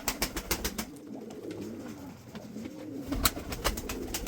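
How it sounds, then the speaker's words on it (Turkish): Mardin-bred pigeons coo in low, repeated rolling calls, fairly close, with sharp clatters and shuffling from the birds throughout. "Evet, Mardin kuşları bunlar."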